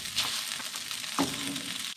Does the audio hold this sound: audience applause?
no